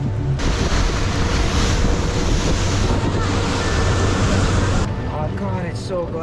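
Ocean waves and surf heard from a boat in Hawaiian waters during humpback whale season, a steady loud rush of water and wind noise that fades near the end as a voice briefly speaks.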